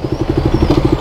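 A KTM 200 Duke motorcycle pulls away, its single-cylinder engine thudding in a quick even rhythm, close and loud, with no talking.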